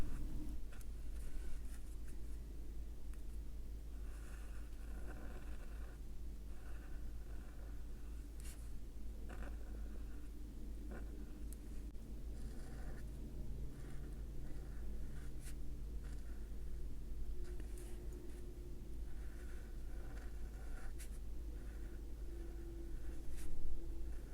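An Ecoline brush pen drags across watercolor paper in soft, intermittent scratchy strokes, faint and close, with a low steady hum in the background and no talking.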